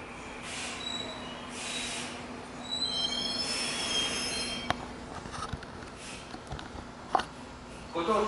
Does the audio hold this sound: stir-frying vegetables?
no